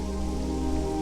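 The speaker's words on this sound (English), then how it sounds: "Absolutely pouring rain here in Burpengary." Heavy rain pours in Burpengary as a steady, loud, unbroken roar of water hitting surfaces.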